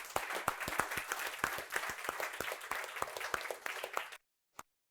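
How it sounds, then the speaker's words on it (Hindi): Students clap hard and loudly in a burst of applause with sharp, dense hand claps. The clapping stops abruptly, and one last clap follows. "जोरदार तालियां"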